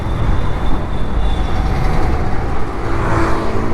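Metro train at Durgam Cheruvu station in Hyderabad at night, a loud continuous low rumble and roar of rolling rail traffic close by, steady throughout with no voices.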